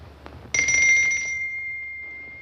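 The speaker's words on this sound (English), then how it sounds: "when I get close to you, I hear bells ringing" A single bell strikes suddenly with a bright, clear ring that sustains and slowly fades over about two seconds, following a quiet stretch, as a sound effect in a 1950 film.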